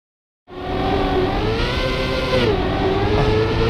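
A racing car engine in the Trackmania video game starts abruptly after a brief silence and holds a loud, sustained drone with a shifting tone during a gear change, with no talk over it.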